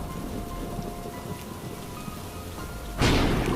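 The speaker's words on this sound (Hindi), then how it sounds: "बारिश होने लगती है" Rain falling with thunder in a cartoon, a steady patter of rain that is suddenly joined by a loud crack and rumble of thunder near the end.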